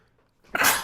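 A single loud, sharp sneeze erupts after a moment of near quiet, close by and abrupt.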